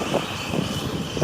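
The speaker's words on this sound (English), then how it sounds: "this is the helicopter here that has landed on scene of this traffic collision" A Mercy Air medical helicopter sits on scene at a traffic collision near Highway 395 in Victorville, its engine and rotor giving a steady, loud, rumbling drone with no talking.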